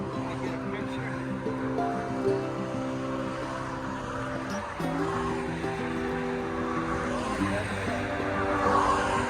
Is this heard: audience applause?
no